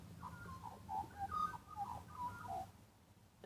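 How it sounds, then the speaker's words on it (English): A magpie sings in short, clear warbling notes, several phrases spread over a few seconds against a quiet outdoor background, moderately close with no talking. "I just stopped so you could hear that magpie. I love it when they sing."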